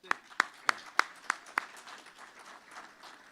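A handful of sharp, evenly spaced claps from a sparse audience at a panel discussion on California's energy transition and agriculture, fading into a quiet room after about six claps.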